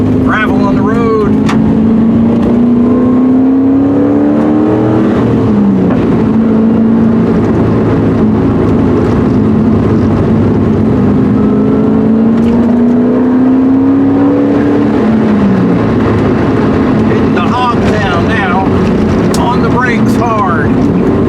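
Porsche 944 with an LS V8 engine swap pulls hard in second gear, engine note climbing and dropping through several rising sweeps, loud and close inside the cabin, with someone talking over it at times.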